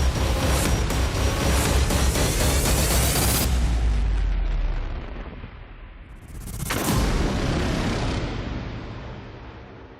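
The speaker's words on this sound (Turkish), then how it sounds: "Atış var!" A rifle fired at a ballistic gel block on a firing range lets out a loud, sharp blast that rings out and slowly decays, followed by a second loud burst of noise a few seconds later.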